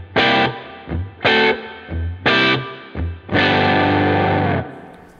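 Distorted electric guitar playing a blues chord progression, three short punchy strummed chords followed by a longer sustained chord, loud and close, with brief muted bass notes between the hits.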